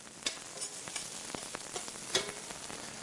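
Scallions and fennel sautéing in a restaurant kitchen pan give a steady, soft sizzle with scattered crackles and a few brighter stirring scrapes, close and fairly quiet, with no voices.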